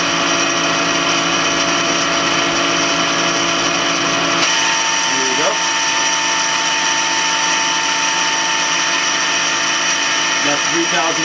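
A Citizen A32VII CNC Swiss lathe with its spindle running at 3,000 RPM, making a loud, steady machine whine with tonal hum that never lets up, with a brief faint voice partway through.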